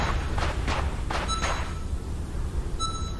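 Footsteps in the video game SCP Secret Files, four soft crunching steps in an even rhythm at the start, then quiet background hum with faint beeping tones.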